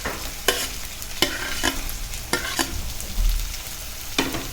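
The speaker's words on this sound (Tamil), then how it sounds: "போட்டு நல்லா வதக்கிக்கோங்க." Tomatoes and curry leaves sautéing in a pan, a spatula scraping and tapping at an uneven rhythm over a continuous low sizzle, close and clear.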